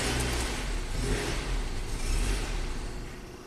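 A barely running Nissan Sentra idles roughly as gas is fed to keep it alive, a low engine drone swelling and easing in uneven revs, close and continuous.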